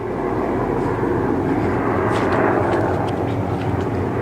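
A constant heavy drone of helicopters flying past, broad rumbling engine noise holding steady throughout, no one speaking.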